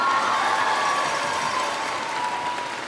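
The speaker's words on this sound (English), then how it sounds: "That's when you clap, come on." A graduation audience applauds in a broad, even wash of many hands that fades slightly toward the end, with faint cheering mixed in.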